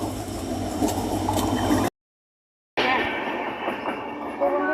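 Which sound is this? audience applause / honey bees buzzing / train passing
train passing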